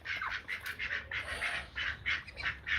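A duck quacks repeatedly in a loose, rapid series of calls. The calls are faint and recorded at a distance, with a low background rumble underneath.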